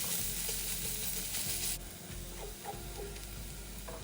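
Forty grams of sliced shallots fry in about sixty millilitres of oil over medium heat in a wok, a steady close sizzle with soft crackles and faint stirring scrapes, no voices.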